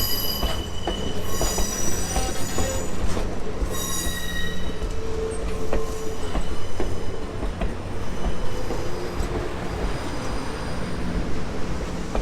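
A train rolls along the rails with steady rumbling, high wheel squeal and intermittent clicking, loud and continuous throughout.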